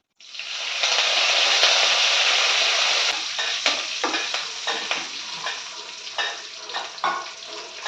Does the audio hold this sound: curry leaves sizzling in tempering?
yes